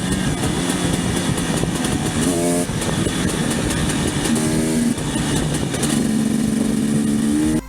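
A KTM enduro motorcycle engine drones loud and close throughout, with a few quick rises in revs as it is ridden, and no voices.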